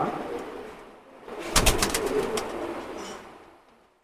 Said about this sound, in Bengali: এই যে কবুতরটা